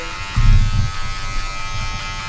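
Electric hair clippers buzz steadily while trimming the neck hair on the back of a client's head during a design fade haircut, a close, continuous motor hum with slight changes in pitch as the blade moves through the hair.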